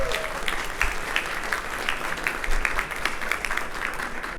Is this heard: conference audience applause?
yes